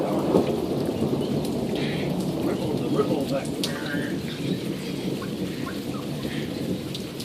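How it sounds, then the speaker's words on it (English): Steady heavy rain pours onto surfaces during a wicked thunderstorm while rolling thunder rumbles underneath, loud and continuous throughout. "Okay, shut up, thunder."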